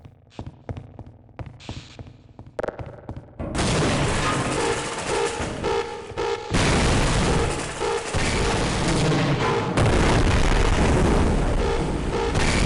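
Explosions and gunfire from Half-Life: Opposing Force, starting with a few scattered sharp shots and then a dense, sustained barrage of loud blasts and rumbling booms that fills the rest of the stretch.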